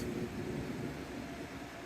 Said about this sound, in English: And there goes train 172, northbound to Boston, Massachusetts.